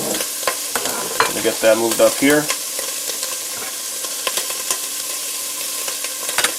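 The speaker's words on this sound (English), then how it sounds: "Hear that sizzle?" Jambalaya sizzles and crackles in a frying pan, with a burst of scraping stirring strokes partway through and a continuous hiss underneath; someone speaks briefly over the cooking sounds.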